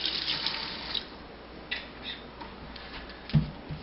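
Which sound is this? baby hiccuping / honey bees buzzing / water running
water running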